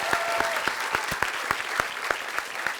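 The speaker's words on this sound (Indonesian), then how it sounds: "kita Tepuk tangan sekali lagi dong" A crowd claps together in a steady, rhythmic beat, the claps evenly spaced and fairly loud, with faint voices underneath.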